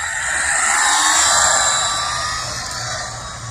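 An Arrma Infraction 4x4 Mega RC car with a brushed motor runs nearby, a loud rising and falling electric whine with tire hiss, alone without voices.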